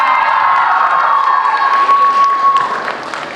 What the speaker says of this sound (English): Let's give her another round of applause for her amazing talent.